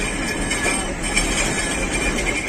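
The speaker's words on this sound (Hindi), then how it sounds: "one 102 down rail car Lahore junction पर पहुंच रही है" A Pakistan Railways rail car, the 102 Down deluxe parlor service, rolls into Lahore Junction with a steady, loud rumble of wheels and carriage noise that fills the scene without a break.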